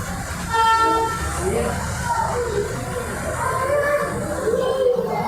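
A Darjeeling toy train at a station platform gives a long horn toot, with a steady rumble and voices around it.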